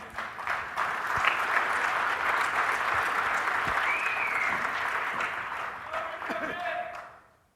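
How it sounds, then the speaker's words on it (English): Sustained applause from a studio audience honoring two cricket legends, a steady wash of clapping that holds for several seconds, then thins and stops abruptly at the end. "A huge round of applause to both the legends."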